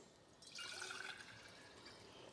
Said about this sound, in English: I'm going to go ahead and pour the water into these.